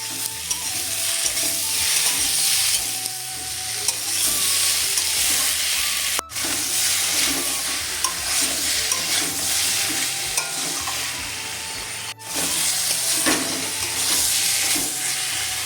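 Chopped tomatoes sizzle and are stirred into a vegetarian pumpkin curry, a loud steady frying hiss with scraping spoon strokes throughout, briefly cut twice, and no talking.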